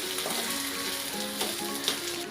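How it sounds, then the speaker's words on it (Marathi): A dal tadka of onion, mustard seeds and dried chili frying in hot oil, giving a loud, continuous close sizzle with spitting crackles and a spoon stirring through it. "आता त्याला आता मी व्यवस्थित मिक्स करते 1 चमच्याच्या मदतीने।"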